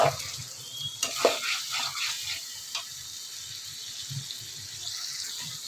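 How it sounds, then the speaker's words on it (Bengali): Dried fish (shutki) cooks in a pan with a steady soft sizzle and occasional stirring scrapes and clinks, fairly close and moderate in level, with no talking. "সেই সুটকি এখন রান্না হচ্ছে"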